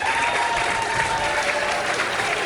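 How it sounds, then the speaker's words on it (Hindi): A Hindi-speaking crowd applauds at a stand-up comedy show about married life. The clapping is dense, steady and sustained throughout. "तालियां कमजोर हैं"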